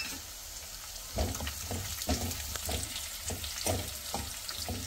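Cumin, mustard seeds and curry leaves sizzle in hot oil for a Marathi tadka, with a steady loud crackle and periodic popping bursts as the seeds spatter, heard alone up close.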